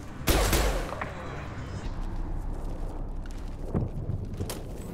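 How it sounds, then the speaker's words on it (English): An impact shot fires in Mass Effect 2 with one sharp, loud blast, then a sustained rumbling wash and a couple of fainter thuds later on. "Firing an impact shot!"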